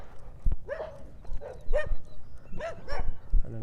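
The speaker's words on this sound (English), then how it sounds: "we got this little guy over here just barking" A small dog barks in short, sharp bursts during an outdoor morning walk, about five yaps spread over a few seconds at moderate distance, with faint background noise between them.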